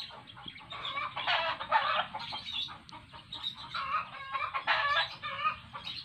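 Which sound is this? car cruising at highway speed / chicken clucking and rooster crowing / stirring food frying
chicken clucking and rooster crowing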